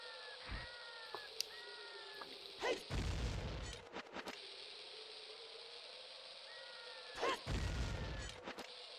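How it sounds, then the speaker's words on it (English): Several booming bomb explosions from The Legend of Zelda: Ocarina of Time burst out, each a low rumbling blast, separated by mechanical clicks and whirring effects, with no speech. "Going for the bomb explosions first."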